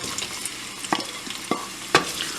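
Chopped onions fry in hot oil for a chicken and chickpea curry, a close, steady sizzle broken by several sharp scraping strokes of a spoon stirring the pan.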